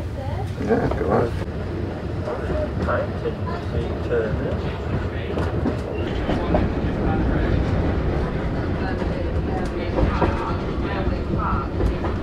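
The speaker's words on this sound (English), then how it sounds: "we're travelling on the Dartmouth Steam Railway" Aboard the Dartmouth Steam Railway, a heritage train hauled by an American-built 2-6-0 steam locomotive named Omaha rumbles steadily, its carriage wheels clattering over the rails with a continuous rolling roar while people talk over it.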